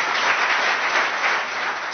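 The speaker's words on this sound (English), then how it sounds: "please give them a round of applause as I welcome them" Steady applause from an audience welcoming a guest speaker at a panel discussion on judicial activism, a dense even wash of clapping lasting the whole moment.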